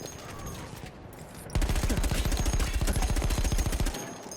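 Battlefield 1 gunfire: a brief lull gives way to a loud, sustained burst of rapid automatic fire, steady rhythmic shots continuing for several seconds before cutting off.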